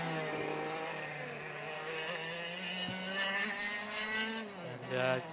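An F100 race car laps the circuit at Nutts Corner, its engine droning at steady revs before dropping in pitch under braking, heard at a distance behind a commentator's voice.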